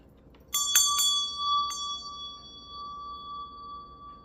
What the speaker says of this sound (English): I'm going to be ringing my meditation bell